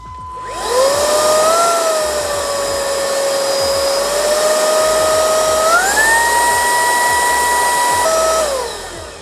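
An ORFELD EV696 Pro cordless vacuum runs nearby as a steady, loud motor whine. It steps up in pitch when it switches to a higher mode, then drops back down before shutting off.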